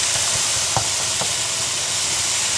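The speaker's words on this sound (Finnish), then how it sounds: "Paistan 400 grammaa jauhelihaa." Four hundred grams of ground beef sizzle loudly in a frying pan, a steady hiss with a few soft stirring scrapes, no voices present.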